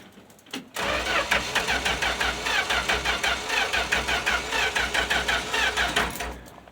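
An old 1965 Plymouth Valiant engine running on stale gasoline cranks briefly and catches, then settles into a loud, close, lumpy idle with a steady pulsing beat before cutting off at the end.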